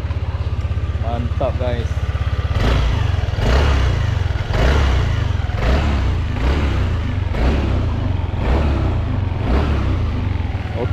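A Yamaha NVX 155 scooter engine, just fitted with a new spark plug and plug cap, idles with a low throbbing burble and then revs in a series of rising blips. Someone speaks briefly over the engine noise.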